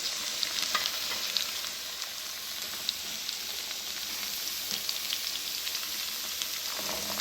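Cauliflower, green chillies, carrots and peas fry in a hot pan with a steady, dense sizzle and crackle that holds throughout, with no talking.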